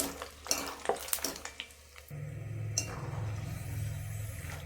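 Peanuts and cornflakes snack mix stirred in a pan: scattered scrapes and clinks of the spoon against metal at first, then a steady low rattle and sizzle of the mix being tossed, close and moderately loud with no talk.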